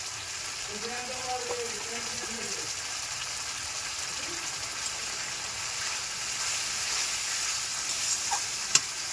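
Spiced potatoes stir-fried in a pan for spicy red aloo dum, giving a steady close sizzle with faint scraping stirs and a sharp click near the end.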